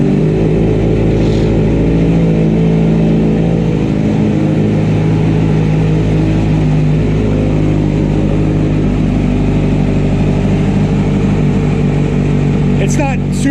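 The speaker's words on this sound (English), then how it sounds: "I'll let you hear the exhaust now." A 2017 Kawasaki Z900 motorcycle idles loud and close with a deep, steady exhaust rumble, a voice talking faintly over it.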